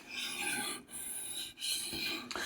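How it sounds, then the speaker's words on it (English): A drawknife bevel is sharpened on a freshly cleaned diamond stone, making repeated raspy scraping strokes, close and quiet, with two brief pauses between the passes. "Get the rest of that bevel sharpened."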